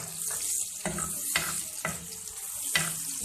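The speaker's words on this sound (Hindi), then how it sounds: "अब हम इसमें प्याज डालेंगे और इसको गोल्डन सा फ्राई कर देंगे।" Onions fry in hot oil with garam masala, a steady close sizzle broken by several scraping stirs of a spoon in the pan, with no voices.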